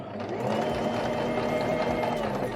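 A sewing machine runs continuously as it stitches a seam on a dress, a steady close mechanical whir with no pauses and no speech over it.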